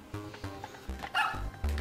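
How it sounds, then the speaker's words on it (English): A cartoonish dog barking sound effect from the Super Mario Maker video game, with several short, punchy barks in a steady rhythm, loud and close. "That's the undo dog. The undog, if you will."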